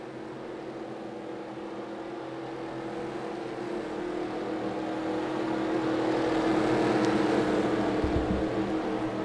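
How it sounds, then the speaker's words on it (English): Stock car engines in a racing video game at Richmond rumble together in a thick, droning mass that swells gradually louder, with a few low thumps near the end. "Drivers, start your engines."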